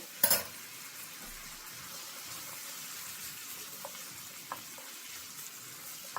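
Ingredients sautéed with mirin in a pan for Japanese omurice, a soft, low steady sizzle with a sharp clack at the start and a few faint scraping ticks, no voices.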